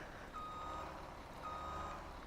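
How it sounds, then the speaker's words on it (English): Tractor reversing beeps in Farming Simulator 17: two faint, evenly spaced electronic beeps over a low engine rumble, with no talk. "I'm going to take out my tractor"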